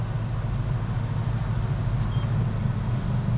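A 1970 Chevrolet Chevelle SS with a 550-horsepower engine slows to a stop from about 50 mph, giving a steady, close low rumble of engine and road noise with no talking.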